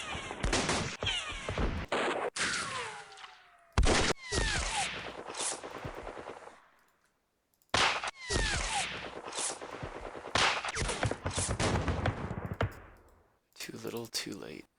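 Gunfire in a World War II West Front campaign war game set during Operation Sealion, loud bursts of shots and rattling fire in two long stretches, broken by a near-silent gap, with a voice speaking over parts of it.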